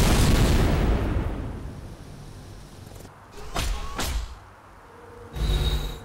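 An orbital attack fires in Civilization: Beyond Earth: a loud booming blast that slowly rumbles away, then a pair of sharp energy zaps, followed by another heavy whooshing burst.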